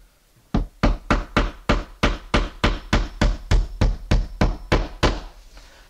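A hammer drives nails into wall studs for a vinyl shower pan liner, about fifteen evenly spaced, sharp knocks close by in a steady rhythm, with no talking.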